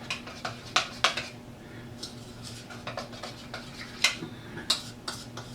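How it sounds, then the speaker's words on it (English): Seasoning mixed with onion powder and paprika in a bowl, light irregular clicks and taps of a utensil against the bowl, faint and close, with no talk. "Mix that up real good."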